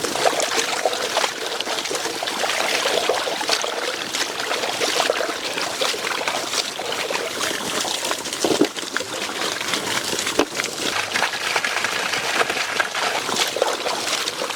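Water gushing steadily from a pipe to wash fish at a village outdoor kitchen, a loud, constant splashing and trickling stream that fills the whole stretch without talk.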